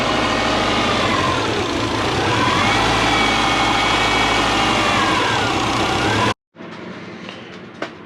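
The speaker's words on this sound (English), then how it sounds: "Alright, we're getting a much better idle." Subaru Forester engine idling after an idle fault repair, a loud continuous drone with a faintly wavering tone, cut abruptly near the end before a quieter hum resumes.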